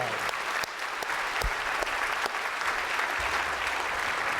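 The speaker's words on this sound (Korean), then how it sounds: "여러분 축하와 격려 박수 한번 해드리시겠습니다" A church congregation at a Korean service claps in congratulation and encouragement, a steady, full round of applause holding at even loudness from start to finish.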